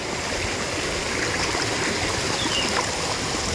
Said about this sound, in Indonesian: mantap bener ini ya air mengalir bening bersih